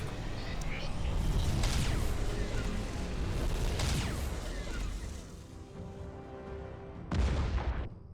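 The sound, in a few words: Nova cannons firing in video game Star Trek Armada 2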